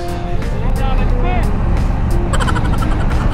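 Heavy road traffic rumbles close by in the early morning, a continuous loud engine drone with vehicles idling and moving, and people talk over it.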